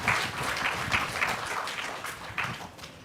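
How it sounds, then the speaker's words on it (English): Steady applause from a crowd, many hands clapping in a dense patter that stays fairly even throughout. "Give this comrade a big round of applause."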